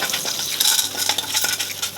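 Raisins and dates frying in ghee in a pan, with a steady close sizzle and light spoon scraping and clinks against the metal throughout.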